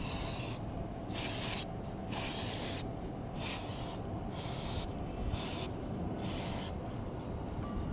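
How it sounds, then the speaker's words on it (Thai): Brake cleaner aerosol sprayed in repeated bursts of bright hiss, about six short blasts separated by brief pauses, close and loud over a steady background rumble in a workshop setting, with no talking. "มันเป็น สเปรย์ที่แห้งไว ฉีดแล้วแป๊บเดียวแห้งเลย"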